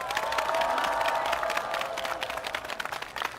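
Applause and cheering from a large outdoor campaign rally crowd in Seoul's Gwanak district, honoring bereaved families of the Itaewon disaster; dense, steady clapping with shouts that loosen and thin out toward the end.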